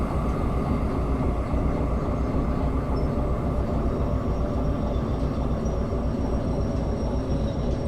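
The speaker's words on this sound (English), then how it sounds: "Love the sound of wheels knocking on rails and at switches." Train rolling along rails in the game Derail Valley, a continuous, loud rumbling drone with dense rhythmic clatter throughout and no speech.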